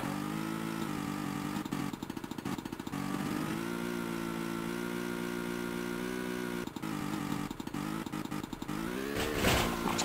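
A motorcycle engine from the Tomb Raider II Remastered game drones steadily and loud throughout, its tone rising and falling with revs, cut by a few brief dropouts and ending in a sharper rev burst.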